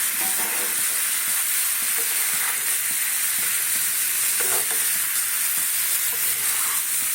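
Potatoes go into a fried spice paste in a pan for aloo dum and are stirred, giving a continuous loud, hissing sizzle with faint scraping and stirring knocks underneath.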